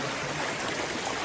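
Flowing river water at a rocky crossing near Zarwani waterfall, a steady close rushing hiss with no breaks and no voices.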